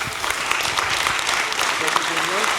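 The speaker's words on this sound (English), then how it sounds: "A big round of applause to these two gentlemen." Steady applause from an audience fills the space, continuous clapping with a voice briefly audible beneath it.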